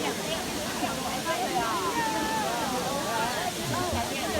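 Mino waterfall in Osaka, Japan, roars as a steady broadband rush of falling water, with the babble of people talking nearby mixed into the constant wash.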